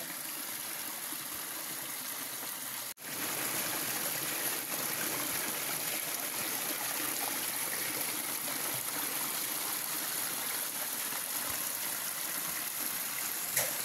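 Continuous gentle flow of spring water trickling and babbling from under rocks nearby, steady throughout after a brief interruption near the start.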